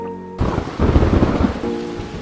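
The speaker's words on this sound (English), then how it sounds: "I absolutely love the rain." Heavy rain during a thunderstorm, with a deep rumble of thunder bursting in after a brief quiet start and rolling on over the steady patter of rain.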